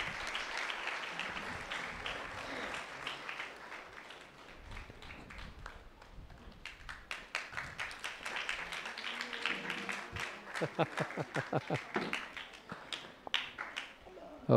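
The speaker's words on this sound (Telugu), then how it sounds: "గట్టిగా చప్పట్లు కొట్టండి దయతో." Applause from a congregation at a thanksgiving mass, a dense round of clapping that swells into sharper, distinct claps toward the end, with a voice speaking over the start.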